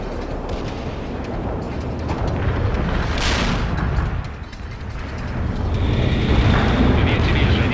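Bombs exploding in the real-time strategy game World in Conflict, during a bombing run in the Lair of the Bear mission: dense, rumbling blasts that roll on continuously throughout, with game radio voices heard over them.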